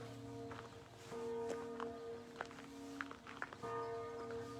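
Monastery church bells ringing in overlapping, sustained metallic tones, with repeated strikes layered over a faint background, moderately distant and with no talk.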